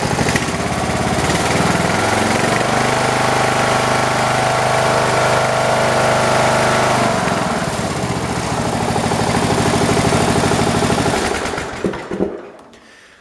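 Poulan Pro 300 EX lawn tractor engine revving up to higher throttle: a loud, steady mechanical drone with a rapid pulsing rattle, close up, holding for several seconds before cutting off abruptly near the end.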